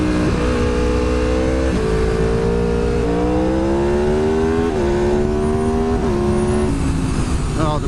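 Modified 2010 Aprilia RSV4 engine revs loud and close, its pitch climbing in stepped pulls with brief dips between gear changes, over steady wind rush.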